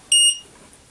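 A SEITRON Gas Sniffer gas detector gives one short, sharp, high electronic beep, loud and close, followed by quiet.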